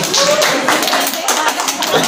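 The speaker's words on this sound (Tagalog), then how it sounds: "Huwag niyong palakpakan yung gusto niyong manalo." A studio audience applauds a contestant at a game show, a dense, loud, continuous patter of many hands clapping over the whole stretch, with voices mixed into the noise.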